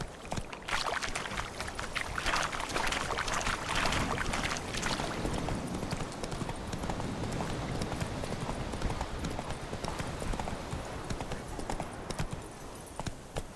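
Steady, rhythmic clip-clop of horse hooves trotting along a road in the Witcher 3 video game, continuous and fairly close against a soft ambient wash.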